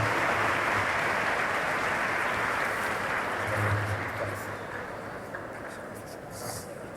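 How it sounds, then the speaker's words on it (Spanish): Dense, steady applause from a lecture-hall audience at a workshop talk, a continuous wash of many hands that slowly thins and softens toward the end. "Un aplauso para ellos y todos a participar activamente."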